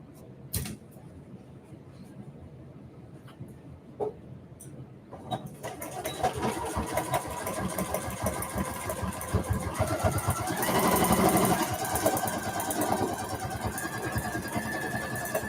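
A sewing machine stitches fabric for a maker caddy, starting after a few soft clicks and handling noises, then whirring in a steady, fairly close mechanical run that swells briefly near the end.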